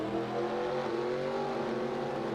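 Race cars roll off behind the pace car at Auto Club in a NASCAR-style racing video game, a steady droning chorus of engines with rising revving tones, held at a moderate, even level throughout.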